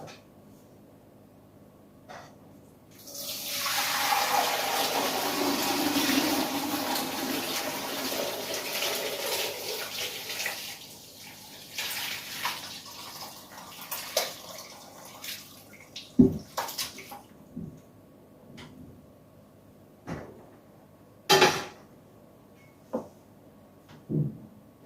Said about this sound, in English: I'm going to dump this broth into there and strain out all the bits.